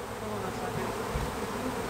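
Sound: bees buzzing around a birdhouse

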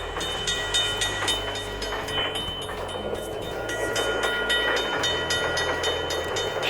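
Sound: train passing in a video game

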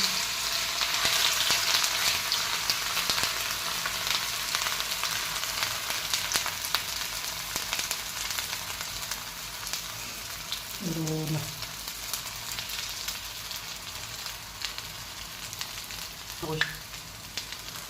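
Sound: potato semolina snacks frying in a pan

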